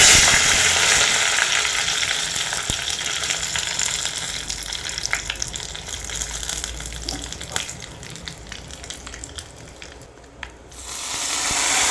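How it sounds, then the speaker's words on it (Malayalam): Mustard and fenugreek seeds frying in hot coconut oil in a pan, a steady loud sizzle with scattered crackles and pops running throughout, easing slightly near the end, with no talking. "പാൻ അടുപ്പത്ത് വെച്ചു എണ്ണ വെളിച്ചെണ്ണ ചൂടായിട്ടുണ്ട് അതിലേക്ക് നമുക്ക് കടുകും ഉലുവയും കൂടി ഇട്ട് കൊടുക്കാം"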